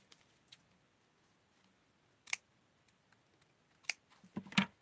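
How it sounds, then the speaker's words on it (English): Sharp scissors snip fabric for doll clothes in a few quiet, separate cuts, with faint near clicks between them and no voices. "And I'm going to get my better scissors."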